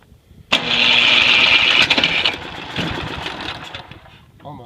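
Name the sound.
Ariens Platinum ST30DLE snow blower engine starting attempt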